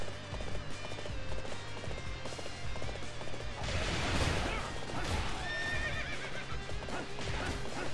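A horse neighs and gallops in the Dynasty Warriors 8 video game, hooves clip-clopping in a steady rhythm with a loud whinny midway, set against busy battlefield game sounds.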